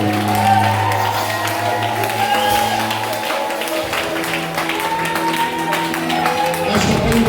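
A church congregation applauds and calls out in acclaim, with clapping, cheers and shouts over music, a continuous lively crowd noise at close range.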